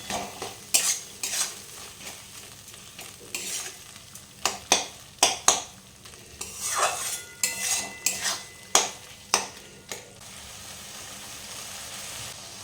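Kohlrabi and potato fry in a pan while a utensil stirs them, giving irregular metallic scrapes and clinks against the pan over a faint sizzle, with quieter pauses between bursts of stirring.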